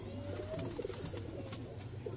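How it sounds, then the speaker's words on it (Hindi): A pigeon coos softly nearby, low throaty notes over faint background noise. "ये दोस्तों देखें, मेरे शौक़ वाला कबूतर है"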